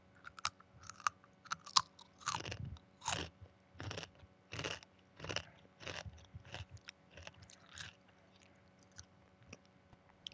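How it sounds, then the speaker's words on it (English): Loud, close chewing and crunching during a Rainbow Six Siege match, a run of wet, crisp bites in an irregular rhythm with no talk over it. "Can you stop chewing so fucking loud?"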